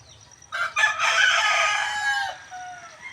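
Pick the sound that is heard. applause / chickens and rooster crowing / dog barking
chickens and rooster crowing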